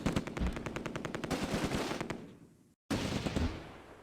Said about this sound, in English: The medium machine gun opens up.